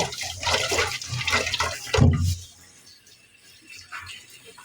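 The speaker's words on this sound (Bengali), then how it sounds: "জালিতে করে মোচাটা এরকম ডলে ডলে কচলিয়ে কষলিয়ে সুন্দর করে ধুয়ে নিতে হবে" Banana flower rubbed and washed in a mesh strainer under water, a run of splashing, sloshing water and handling noise that ends abruptly around the midpoint, leaving a quiet room with faint trickles.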